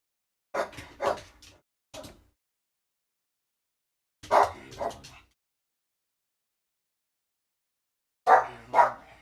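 A dog barks in short bursts of two or three, with long silent gaps between the groups, moderately close.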